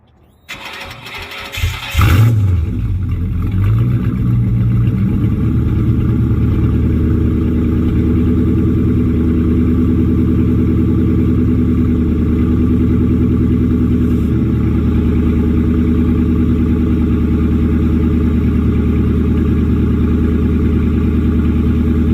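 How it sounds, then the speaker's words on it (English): A 2004 Ford Mustang GT cranks over on a cold start, catches with a loud flare of revs, then settles into a deep, steady rumbling idle that continues close and loud for the rest of the clip. "So let's go ahead and give y'all the cold start though."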